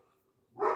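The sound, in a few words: neighbor's dog barking in the background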